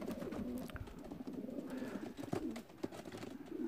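Racing pigeons, crossbreds of Leo Hermans and Vandenabeele lines, coo softly at close range in low, rolling repeated calls, with the quiet flutter and shuffle of birds in a loft around them.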